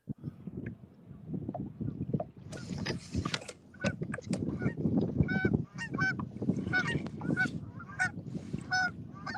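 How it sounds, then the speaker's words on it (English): Geese honk repeatedly at a lakeside catfishing tournament, their overlapping nasal calls fairly close and continuous over a low background rumble. "The geese have arrived."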